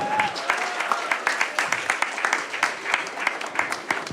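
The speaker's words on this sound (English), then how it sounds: "Can I give a good round of applause for sir?" A crowd at a college short film festival claps for a guest seated in the audience, sustained applause with distinct sharp claps near and far, with some voices mixed in.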